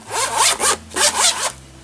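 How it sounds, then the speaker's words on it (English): A zipper on a sturdy fabric crochet hook case is drawn open in four quick, loud, close rasping strokes, each separated by a short pause, with no talking. "It's got a nice zipper."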